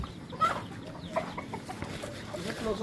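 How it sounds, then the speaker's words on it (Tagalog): A flock of black chickens clucks at moderate distance in an outdoor yard, scattered soft clucks over a low background hum with little talk. "Ayun, daming manok, oh."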